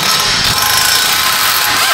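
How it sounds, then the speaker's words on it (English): A 3/8-inch pneumatic impact gun hammers a nut loose from a Buick Encore's front lower control arm, a loud, continuous rattling buzz up close lasting about two seconds. "We'll start by grabbing a 3/8 Ugga Dugga gun."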